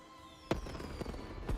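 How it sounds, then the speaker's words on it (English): Fireworks in the video game Wuthering Waves burst in three sharp bangs spaced about half a second apart, each followed by a crackling tail over a steady festive carnival background. "Fireworks."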